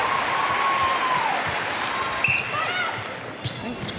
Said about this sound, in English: The oohs and ahs in this big crowd are riding every passage of play.